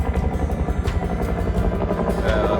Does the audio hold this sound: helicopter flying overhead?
yes